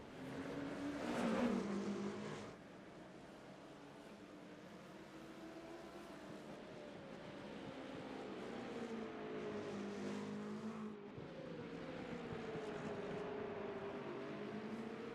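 Race cars in a sim endurance race roar continuously, with engine notes rising and falling as they chase one another around the track, a sustained moderate drone with no talk.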